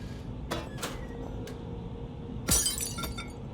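Glass shatters loudly as a statue smashes into a framed glass pane in the horror game Penumbra: Black Plague, a sharp crash with tinkling debris over a low ambient drone, preceded by a few faint clicks.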